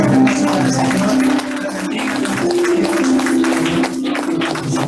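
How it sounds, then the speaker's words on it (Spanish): Church congregation applauding loudly and continuously in a sustained wash of clapping, with a steady musical tone underneath. "Una fuerte aplauso para el Señor"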